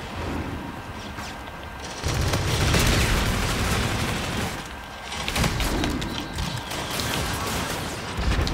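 Rapid gunfire from the RPR Evo in Call of Duty: Infinite Warfare, dense bursts of shots with mechanical clatter running steadily throughout, loud and close amid busy game action.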